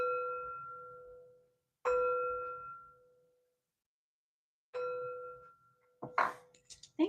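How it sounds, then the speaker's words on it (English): Three separate chime strikes ring out clearly at intervals, each a bright metallic ding with a long fading tail, the last one softer and briefly overlapped by a clink and a breath or rustle near the end. "3 chimes to bring in positive energy."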